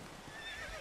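A horse whinnies in the video game Red Dead Redemption: Undead Nightmare, one short, faint neigh with no talk over it.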